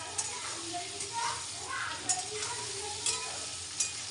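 A spice mixture with onion is stir-fried in a pan for a whole pointed gourd dish, producing a steady sizzle and repeated spatula strokes while people talk softly in the background.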